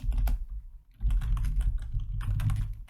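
JavaScript code being typed on a computer keyboard, with close, brisk bursts of clicking keystrokes and a brief pause before the typing picks up again.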